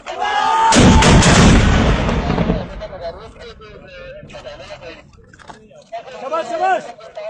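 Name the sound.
mortar being fired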